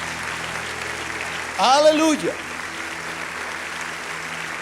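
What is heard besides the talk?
congregation applauding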